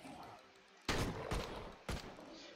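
Gunfire at zombies in the survival shooter Left to Survive: two loud, sharp gunshot bursts about a second apart, each trailing off briefly over low game ambience.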